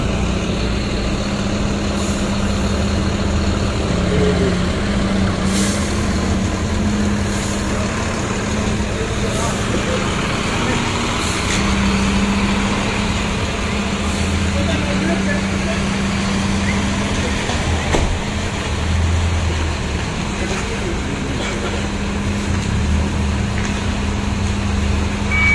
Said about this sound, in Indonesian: suaranya masih renyah sekali nih, bis baru.